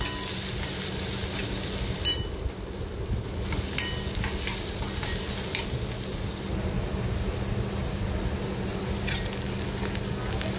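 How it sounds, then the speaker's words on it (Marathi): Finely chopped onion sautéing in a pan for cabbage masala gives a continuous close sizzle, with occasional light scrapes of stirring over the hiss. "आता आपण बारीक चिरलेला कांदा घालूया याच्यामध्ये। आणि कांदाही परतून घ्यायचा आहे"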